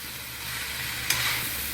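Quiet sizzling of mushroom masala in a hot frying pan with a soft scrape of a spoon stirring through it, steady and close.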